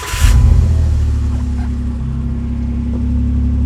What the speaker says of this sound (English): the engine sounds real healthy